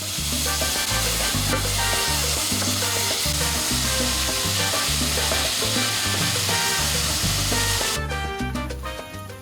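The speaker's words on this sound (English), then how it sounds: "Flip the meat and do the same to the other side before you start stir-frying." Pork for Thai pad kra pao with holy basil sizzles in a hot pan as it is stir-fried, a continuous bright hiss running under loud rhythmic background music before cutting off near the end.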